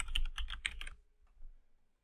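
Keystrokes on a computer keyboard as a certificate password is entered, a quick run of close, crisp clicks for about a second, then stillness with a few faint taps.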